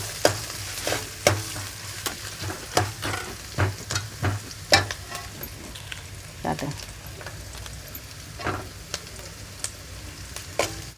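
Chopped large onion tossed into hot oil in a pan for tempering a chicken kulambu, giving a steady close sizzle with repeated sharp clicks and scrapes of stirring, no talking.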